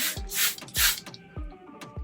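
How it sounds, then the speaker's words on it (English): Several short, breathy sprays from a pump bottle, each a quick hiss, coming in irregular bursts up close with brief pauses between. "Take some more water and spray it."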